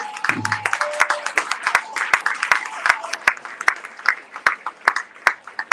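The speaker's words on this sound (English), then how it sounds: "Y'all better clap on that." Scattered clapping from a small audience, uneven and ongoing, with a brief voice near the start.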